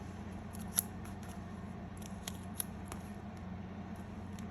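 Scissors snip paper for a traveler's notebook memory-keeping page, giving a few faint, brief cuts, one slightly sharper than the rest, over a low steady room hum with no talking.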